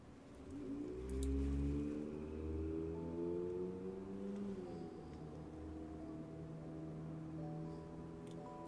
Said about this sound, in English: It's that one noisy car.